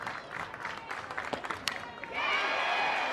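Crowd applause and cheering fill a college softball stadium at a Florida vs Missouri game, a steady wash of clapping that swells louder near the end beneath a commentator's voice.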